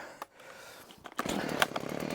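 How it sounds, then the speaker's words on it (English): A chainsaw snarls into a loud, steady, rough roar after a couple of short bursts, close by and with no voices, while cutting timber for a garden room base. "for the chainsaw on this one now"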